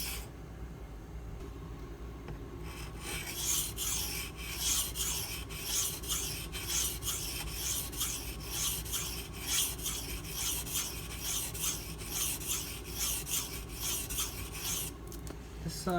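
Steady back-and-forth rasping of a Case Southern Grind CG01 knife blade drawn across a sharpening stone, close and continuous with a brief quieter lead-in, the strokes rhythmic and even.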